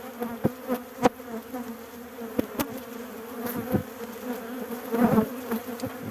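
Honeybees buzz in an open hive, a steady close drone with scattered sharp knocks and clicks throughout, swelling slightly near the end.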